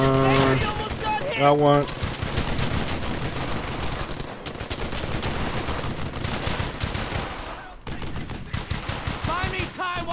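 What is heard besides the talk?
gunfire in video game Brothers In Arms: Hell's Highway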